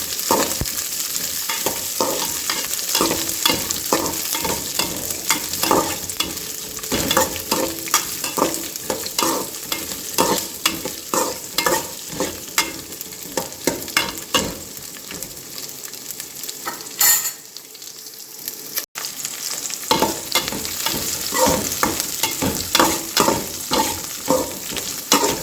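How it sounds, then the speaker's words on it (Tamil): Chopped onions sauté in a pan with mustard seeds and curry leaves for a chickpea curry, a close, continuous sizzle broken by repeated scraping stirs, with one short quiet pause. "நம்ம வெட்டி வச்சுருக்கிற வெங்காயத்தை போட்டுக்கோங்க."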